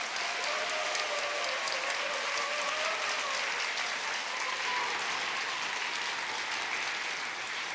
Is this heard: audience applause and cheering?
yes